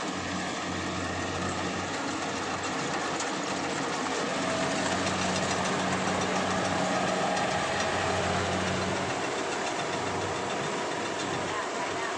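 A combine harvester engine running at harvest in a steady, loud, unbroken drone with a low rumble that holds for the whole stretch.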